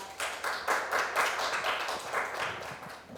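An audience claps for a student presenter at a youth policy proposal contest in Yeoncheon County. The steady, moderate clapping is fairly close and fades slightly toward the end.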